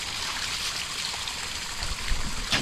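Rainwater running through a drainage channel in a flooded pineapple field, a soft steady rushing trickle with faint gurgles and a small splash near the end, quiet and without talk.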